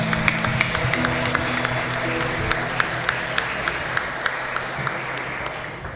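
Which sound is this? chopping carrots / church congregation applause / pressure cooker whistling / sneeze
church congregation applause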